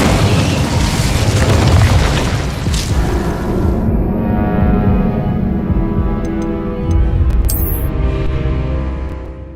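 An Incendio fire spell bursts in Hogwarts Legacy, a loud booming explosion with a crackling roar that fades over several seconds into a low rumble, followed by a faint bright chime.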